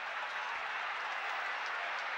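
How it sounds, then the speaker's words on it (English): A large crowd at the 2007 Waterford vs Kilkenny hurling league final roars and claps in a steady, dense wash of noise, fairly distant and unbroken throughout. "The crowd get excited and agitated once again, try to rouse their particular team, their particular favourite"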